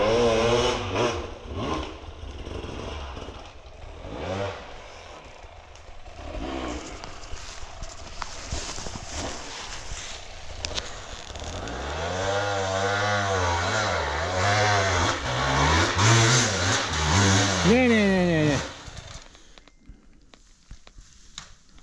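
A new motorcycle engine sputters with uneven clattering attempts, then catches and revs repeatedly in rising and falling sweeps, loud and close, before cutting out near the end.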